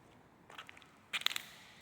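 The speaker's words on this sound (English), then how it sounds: "Broken glass here." Broken glass from a shattered mirror crunches underfoot in a flood-damaged Asheville building, with two short bursts of brittle crackling, the second louder, amid a quiet room.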